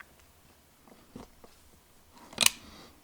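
Cutting away N scale track switch rails, a few soft clicks followed by one sharp, close snip near the end over a quiet background.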